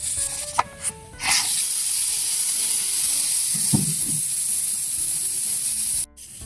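A pot of pork nilaga with banana heart gives off a loud, steady steamy hiss after a few short clinks, running for several seconds before cutting off abruptly near the end.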